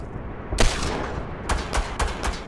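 Fortnite Battle Royale gunfire crackles in sharp, close bursts: one shot early, then a rapid cluster of cracks over the final second, against a rough background of game noise.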